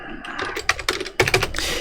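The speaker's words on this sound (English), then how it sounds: "typing out the numbers that I jot down" Numbers typed on a computer keyboard, a quick run of close, sharp key clicks in irregular bursts with short gaps, no speech over them.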